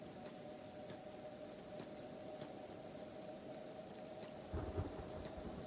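Acid rain pours in a video game, a faint constant hiss of falling water with a low rumble of thunder rolling in near the end, no voices present.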